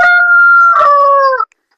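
A Kadaknath rooster crows loudly and close by on a terrace poultry setup, one drawn-out call with a brief break before its tail, with no voices.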